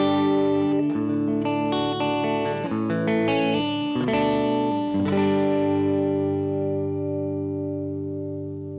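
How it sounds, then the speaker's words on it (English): Clean electric guitar chords through a Universal Audio Ruby and Dream pedal, ring out with a wash of reverb, a few strummed changes then a long sustained chord fading slowly. "So right now, what you're hearing is just the guitar,"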